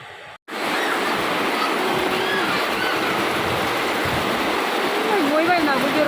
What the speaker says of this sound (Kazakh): Қатты жауып құйып жатыр жаңбыр